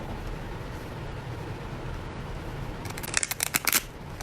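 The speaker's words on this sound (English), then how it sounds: "really hard to shuffle." Near the end, a burst of rapid crisp riffling as a thick deck of cards is shuffled up close, over a quiet background hum.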